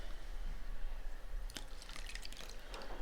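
Proofed yeast and water pour into a dough mixture of dry ingredients and eggs for frittelle, sweet fried dough. The liquid drips and trickles quietly and closely over a low background hum, getting busier with splashes near the end.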